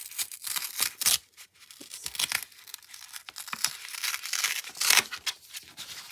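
Paper tears and crinkles up close as an envelope is ripped open, with sharp ripping bursts between softer rustling and crumpling over several seconds, and no one speaking.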